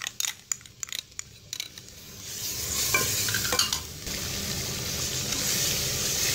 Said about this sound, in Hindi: इस मसाले को मैं अच्छे से भून लूँगी।